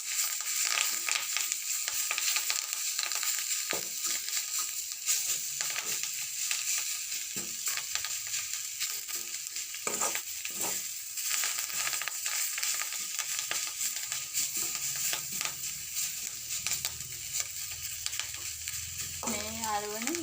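Food frying steadily in a pan during home cooking of rice-and-curry dishes, a continuous crackling sizzle with occasional stirring scrapes and clinks, close and fairly loud throughout.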